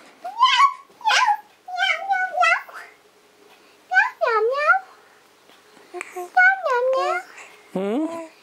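A young child repeatedly imitates a cat's meow, with about nine drawn-out, sing-song mews in short bursts separated by brief pauses.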